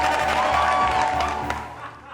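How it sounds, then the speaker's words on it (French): Applause and cheering rise from an audience at an event, a dense crowd of clapping with a few whoops and voices mixed in, steady and fairly loud before easing off toward the end. "Applaudissez pour l'Afrique, s'il vous plaît."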